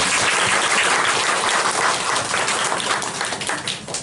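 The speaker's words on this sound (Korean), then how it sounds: "네, 박수." A crowd applauds steadily for several seconds, a dense wash of clapping that stays loud throughout.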